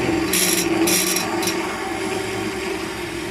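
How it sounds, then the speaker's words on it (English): A big ball gouge cuts spalted beech spinning on a lathe, with a few bright scraping bursts early over a steady motor hum that carries on alone to the end. "So let's switch to the ball gouge while we're at it."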